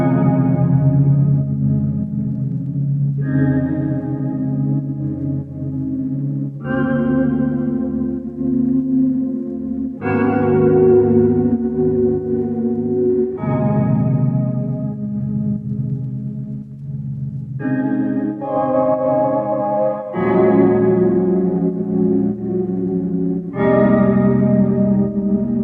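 Mellow lofi chords, including a xylophone sound, play in slow, evenly spaced changes, washed in reverb, chorus and light distortion, with no voices.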